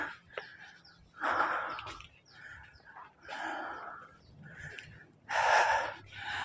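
Heavy, ragged panting after a climb to a temple hilltop, with loud gasping breaths in uneven bursts close to the microphone and faint wind-like noise beneath.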